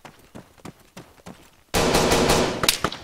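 Video-game gunfire erupts suddenly as a loud, dense burst of rapid shots after a stretch of quieter isolated thuds and taps, with a couple of sharp reports standing out near the end.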